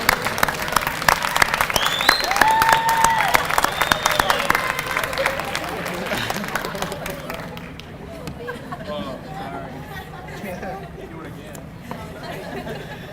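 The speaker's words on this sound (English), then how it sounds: "I'd like to take this opportunity for the graduates to give a round of applause to all the family and friends" Applause at a nursing program graduation pinning ceremony, a fairly close wash of many hands clapping with voices and crowd chatter mixed in, then slowly tapering off over the final seconds.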